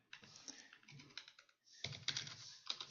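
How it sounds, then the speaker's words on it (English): Numbers are tapped out on a computer keyboard in quick, uneven bursts of light clicking, with a brief pause in the middle, close and quiet with no talking. "Just type in some numbers."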